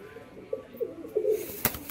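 Young heavy-booted Lotan pigeon chicks give a few soft, short coos and murmurs close by, spaced irregularly, with a brief rustle near the end.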